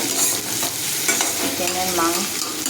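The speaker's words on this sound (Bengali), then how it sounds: "চিকেনটাকে হলুদ আর লবণ দিয়ে দিয়েছি, ওটাকে মাখাবো। মাখিয়ে নিই ভালো করে।" Chicken is worked by hand with turmeric and salt, a short burst of close, wet mixing and squelching sounds with no one speaking.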